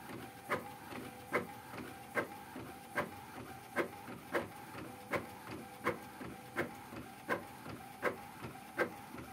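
An Epson L1300 inkjet printer pulls paper through and prints in a steady loop: about fifteen regular, evenly spaced mechanical clacks with a whirring carriage between them, close up and alone, with no voices.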